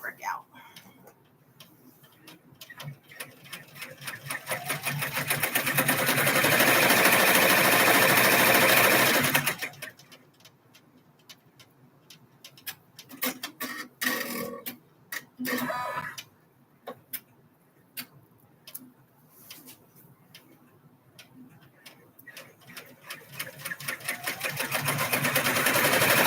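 A sewing machine stitches a line down through fabric in one long steady whirring run up close, then stops; afterwards come scattered short clicks and handling noises with a voice speaking at times.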